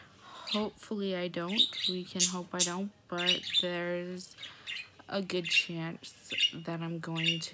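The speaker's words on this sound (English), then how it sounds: "you can obviously hear the birds in the background" Birds chirp and tweet in the background of an indoor room, light high calls scattered beneath a woman's steady, close talking that dominates throughout.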